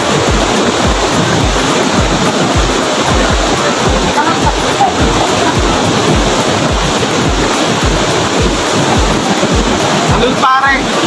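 Talon Pari waterfall pours in a loud, continuous roar of rushing water, close and dense throughout, with some wind buffeting on the microphone.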